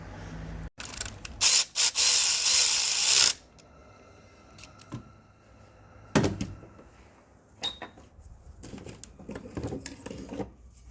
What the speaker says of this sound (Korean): 클램프를 싹 조이고 커먼 네일 볼트도 좀 조여 보겠습니다.